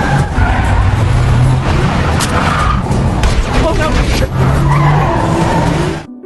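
Tires squeal and skid as cars race in a movie car chase, a loud, continuous roar of engines and screeching that swells twice, with a voice speaking over the chaos.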